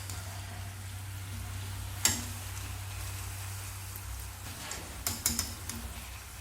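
Masala vada made from chana dal fries in hot oil with a soft, steady low sizzle and faint crackle, broken by a few sharp clinks and taps near the end; no one speaks.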